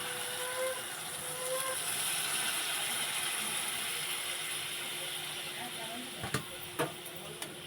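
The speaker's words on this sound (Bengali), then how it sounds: "এবারে দিয়ে দেবো অল্প করে জল" Water poured into a pan of mustard hilsa and prawn curry sets off a steady, close sizzling hiss, with a few soft knocks of utensils near the end.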